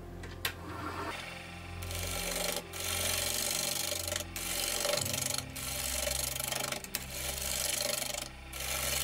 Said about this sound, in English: I'm gonna go back to the spindle gouge to take that part off.